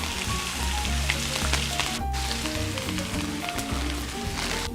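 Onions and ginger frying in a hot pan for pancit, a loud, continuous hiss of sizzling oil heard close up, steady throughout with no talk.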